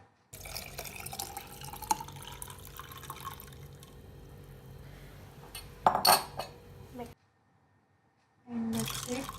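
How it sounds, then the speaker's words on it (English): Tamarind water is poured into a jar for a mojito with mint leaves and lemon slices, a close trickle and splash with clinks of glass and utensils, while someone talks over it. "Add that imli water in the jar."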